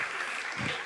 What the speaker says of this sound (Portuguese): Palmas pra eles